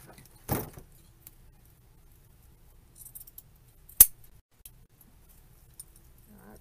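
Scissors trimming material for an apple blossom wreath give a couple of sharp, isolated snips with quiet handling between them.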